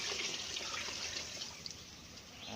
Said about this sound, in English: Now add a little more water.